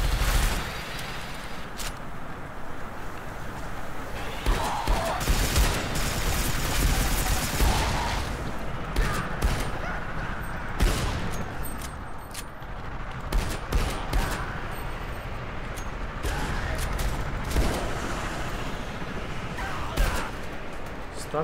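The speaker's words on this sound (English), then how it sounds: "Stop shooting me without facing me." Rapid gunfire crackles through a firefight in the video game SiN Episodes: Emergence, dense bursts and single shots repeating at moderate loudness across the whole stretch.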